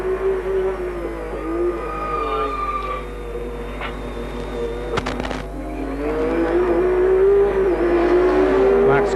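A Nissan GT-R race car with a big turbo exhaust system runs at the 1991 Nissan Mobil 500 street race in Wellington, New Zealand, its engine note droning loud and close with shifting pitch and a few sharp transient knocks.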